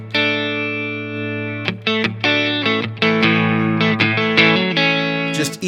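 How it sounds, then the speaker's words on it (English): Clean electric guitar played at low volume through a compressor pedal, with the equalizer always on: sustained chords and single notes ring evenly with steady level, each new pick attack close and alone, shimmering with added effects. "I use the compressor when I'm doing low volume clean"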